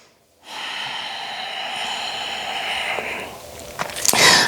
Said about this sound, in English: And one more breath here.